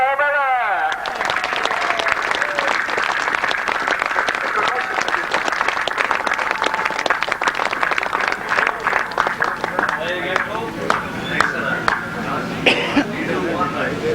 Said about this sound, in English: we'll get a nice big cheer